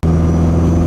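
Turbocharged Saab fitted with an SRT4 engine and a big turbo, wastegate tube left open, idling and revving as it warms up; a steady loud low engine drone with a faint high turbo whine, continuous and close.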